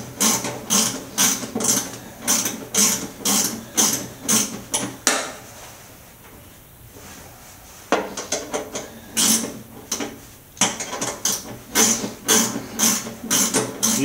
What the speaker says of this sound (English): We're using a gear wrench 3/8.